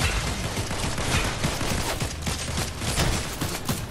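Dense, continuous gunfire from a Fortnite match, rapid overlapping shots and bursts filling the whole stretch at steady loudness with no clear gaps, with no voices.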